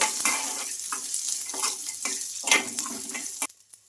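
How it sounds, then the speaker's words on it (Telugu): Onions, peanuts and curry leaves fry in a pan for jowar idli seasoning, a continuous crackling sizzle broken by repeated scraping stirs, close and fairly loud, before cutting off abruptly. "ఇవన్నీ వేసుకొని బాగా ఫ్రై చేసుకోవాలి"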